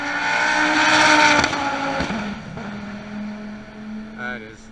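A fast race car on a track, its engine loud and roaring at first, then fading as it pulls away, with talk over it.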